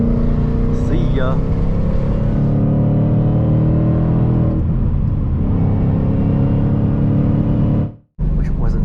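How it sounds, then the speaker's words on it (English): Mustang with resonator delete and X pipe droning steadily while cruising, a low rumble heard from inside under wind, cutting out briefly near the end. "that's all we want to hear is this beautiful exhaust"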